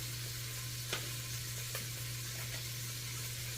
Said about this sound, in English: Let me stir this. So we're browning up nicely here.